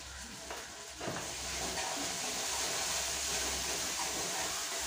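Spices with turmeric and salt frying in oil in a pan, a steady hissing sizzle that swells after a brief stir and stays close and continuous throughout.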